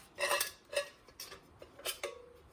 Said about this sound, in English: Some knives for chopping duty.